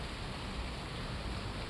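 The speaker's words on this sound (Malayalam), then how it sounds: "അയ്യോ, പിന്നെയും മഴ തുടങ്ങി." Light rain starting again outdoors in Malaysia, a steady, even hiss of falling drops without breaks, faint and continuous with no voices.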